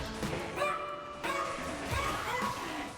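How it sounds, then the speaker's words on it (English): Several dogs yip and bark in quick overlapping bursts from nearby, the yelps sitting under a steady wash of background game sound and faint talk. "Why did the dogs get louder?"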